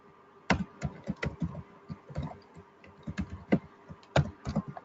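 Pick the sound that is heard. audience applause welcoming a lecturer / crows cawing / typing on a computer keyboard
typing on a computer keyboard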